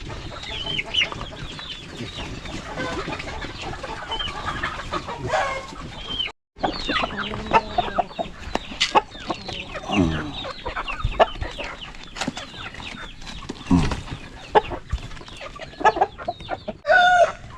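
Chickens cluck continuously and loudly up close, with overlapping squawks and an occasional crow rising from the flock.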